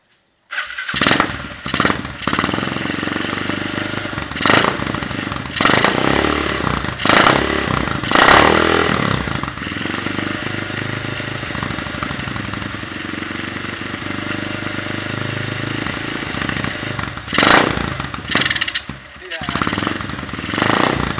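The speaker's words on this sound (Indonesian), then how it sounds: "sekarang gue mau nyobain buat nyalain mesinnya ya" A 2008 Yamaha Vega R motorcycle engine is cranked and started, with repeated bursts of starter clatter and revving between steady idling, loud and close, mixed with scraping sounds and people talking.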